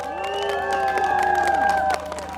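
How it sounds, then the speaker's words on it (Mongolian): Audience at a formal Mongolian honorary reception for a distinguished teacher claps and cheers, a dense continuous crowd roar with whoops and sustained sung or shouted voices, fairly loud, cutting off near the end. "За та бүхний алга ташлтыг юу ч гэсэн сонсъё."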